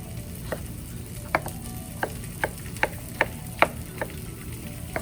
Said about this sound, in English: you can hear our mushrooms are starting to sizzle just a little bit